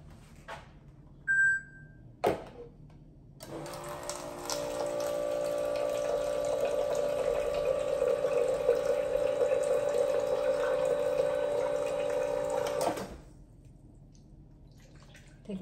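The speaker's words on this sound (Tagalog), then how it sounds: "Kuha tayo ng tubig dito." Water runs steadily from a kitchen tap for about ten seconds, a close, even rushing stream, preceded by a brief beep and a few clicks, then stops abruptly.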